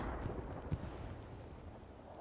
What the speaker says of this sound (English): rockets still hitting the enemy artillery